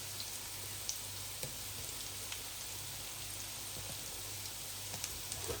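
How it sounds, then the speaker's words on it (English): Onions frying in a pan for a Lancashire hotpot, a steady, soft crackling sizzle with occasional faint pops, heard close up and alone, with a low hum underneath. "Fried onions."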